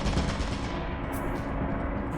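Automated turrets in the horror co-op game Lethal Company spray dense, continuous gunfire, loud and close, a relentless rattling burst that barely lets up for the whole stretch.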